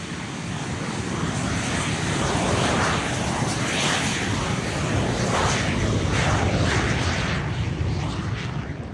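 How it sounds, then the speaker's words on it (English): A Boeing B-29 warbird flies over an airshow, its piston engines producing a loud, sustained roaring drone that swells slightly mid-pass and stays heavy throughout. "a B-29 was flying over right around the same time"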